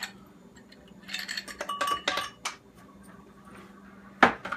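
Several hard clinks and clatters of five ice cubes striking a blender jar, a cluster in the middle and one sharp rattle near the end, with little else around them.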